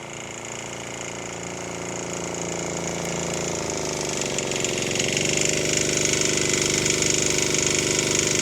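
A new heavy diesel walk-behind tractor engine runs steadily and loud, its throbbing drone rising slightly in pitch as it shifts into a higher gear during break-in.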